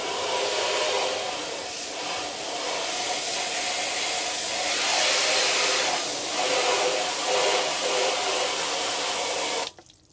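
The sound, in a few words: rinsing a car after chemical pre-treatment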